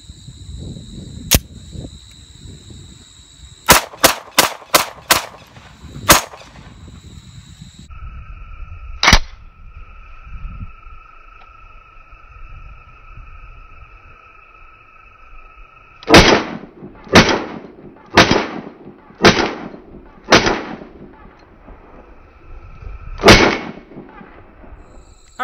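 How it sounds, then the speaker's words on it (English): Browning FN Hi Power pistol fired at steel plates outdoors: sharp single shots, some in quick strings of four or five, spaced by pauses, with faint ringing tones hanging between reports. "we're still shooting this beautiful FN Browning high power"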